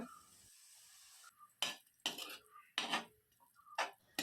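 A spoon clinks and scrapes against a pot while yogurt is stirred into biryani masala for a Kerala-style egg biriyani, in several sharp, separate knocks with quiet gaps between them.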